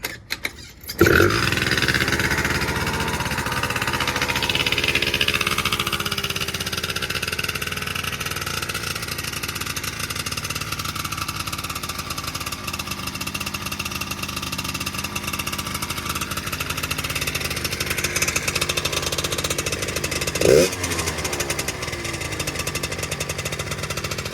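A 1988 Honda Tact scooter engine runs steadily for the whole stretch, a close, loud, buzzing small two-stroke idle with a slight rev bump near the end. No one speaks over it.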